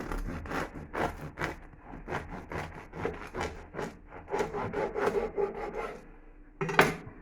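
A knife saws through a crusty spinach sourdough loaf in a run of rhythmic rasping strokes, close and fairly loud, easing into a few softer scrapes and ending with a final crunchy cut.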